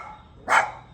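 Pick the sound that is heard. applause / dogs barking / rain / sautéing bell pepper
dogs barking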